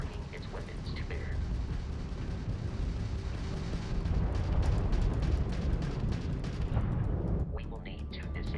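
Crimson Fleet spaceship weapons fire in a space combat video game, a dense rumbling barrage of booms and bursts that swells loud through the middle, with crackling impacts and game dialogue running over it.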